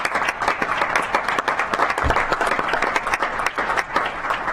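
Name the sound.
round of applause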